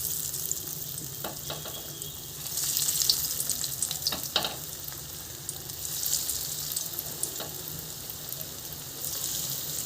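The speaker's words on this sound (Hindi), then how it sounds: "हमने कढ़ाई में ऑयल को गर्म कर लिया है और अपने मोमोज को उसमें डाल देंगे" Whole-wheat momos fry in hot oil in a kadhai, a continuous crackling sizzle with bursts of louder popping, close and without any voices.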